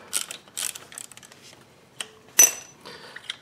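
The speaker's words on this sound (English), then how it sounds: "using a T30 Torx driver and a little ratchet like this, you just unscrew that." A small ratchet turning a T30 Torx driver to unscrew a front brake caliper pin bolt, giving several quick metallic ratcheting bursts and clicks, close and fairly quiet, with short pauses between turns.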